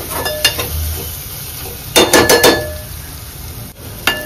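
Spice masala sautéing in oil in a pan for a cashew curry, with a steady low sizzle under scraping stirs of a spoon against the pan and a few sharper clinks, close and alone.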